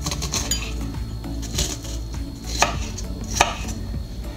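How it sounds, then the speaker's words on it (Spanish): A knife chopping onion on a cutting board, quick repeated taps with a couple of sharper louder strikes over a low steady background hum. "Nada más que terminemos de partir nuestra cebolla"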